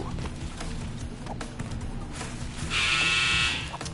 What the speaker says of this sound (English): that's just the dryer going off